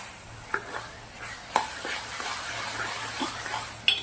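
Green masala paste being stirred into a village-style taro curry in a pan, a soft, wet mixing sound with a faint sizzle and a few sharper utensil knocks against the pot, moderately close.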